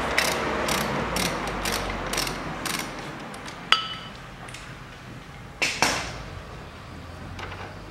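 A ratchet tightening a bolt on a 1999 Hyundai Lantra 1.6, a series of close, crisp clicking bursts with a few sharper metallic clinks in between, heard alone.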